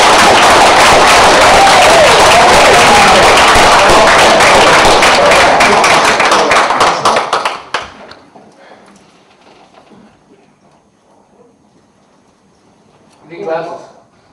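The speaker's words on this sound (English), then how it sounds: "A round of applause." Loud, dense clapping from an audience at an awards presentation, sustained for several seconds and then cutting off sharply into near silence, with a brief voice near the end.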